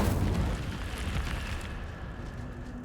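The Incendio fire spell in the Hogwarts Legacy video game bursts with a loud fiery whoosh and rumble at the start, then fades gradually into a crackling, roaring tail.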